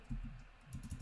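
Soft, quick keystrokes on a computer keyboard come in two short bursts of a few clicks each, close but faint, with no voice.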